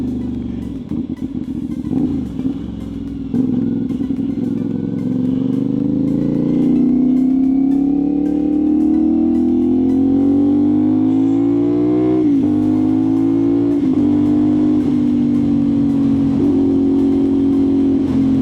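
A CFMoto 450SS motorcycle engine revving and pulling steadily through the gears while riding, its pitch climbing with each gear and dropping briefly at the shifts, loud and close with wind noise.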